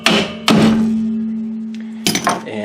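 Sharp metallic hammer taps ring out on a 1999 Ford Contour rear strut, three close, loud strikes, the second leaving a long ringing tone before the last pair of quick hits.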